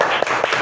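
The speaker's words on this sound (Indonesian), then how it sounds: "Tepuk semangat dulu untuk kita." Three quick, evenly spaced hand claps from a rhythmic 'tepuk semangat' cheer in an Indonesian classroom, sharp and close, with no talking.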